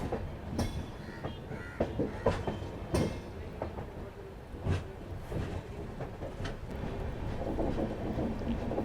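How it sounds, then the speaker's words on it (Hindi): A train running on rails along the scenic route from Kanyakumari to Nagercoil as it takes a curve, with steady rolling rumble, scattered wheel clicks and squeals, heard from inside at moderate volume. "आप देखिए ट्रेन कर्व ले रही है अभी"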